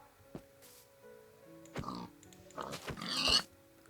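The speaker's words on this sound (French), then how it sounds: "Là, il y a un petit cochon, là." A small pig in Minecraft Bedrock gives a few soft grunts and oinks, spaced out and fairly faint against quiet game ambience.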